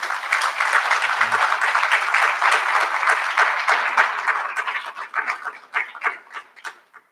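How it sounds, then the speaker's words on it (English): Audience applause at a college recognition ceremony honouring a graduating class, a dense steady roar of clapping from a large crowd that thins into scattered claps over the final seconds. "Please give her a round of applause."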